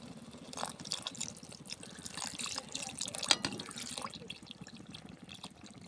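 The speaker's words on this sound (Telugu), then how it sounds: "మసాలాలు కారం బాగా పట్టించేసాను ఇప్పుడు తగిన నీళ్లు పోస్తున్నా" Water is poured into a mushroom masala curry cooking in a pot, a steady liquid splash with dripping, close and moderately loud, with a faint voice murmuring underneath.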